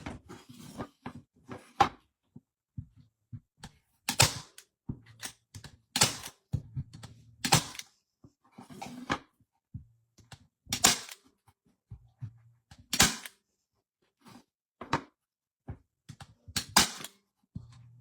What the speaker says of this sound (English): And then just staple it back down.